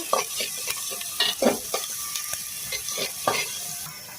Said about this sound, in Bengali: এগুলোকে একটু লাল করে ভেজে নেব